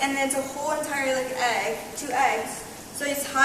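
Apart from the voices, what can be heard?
No everyday noises stand out.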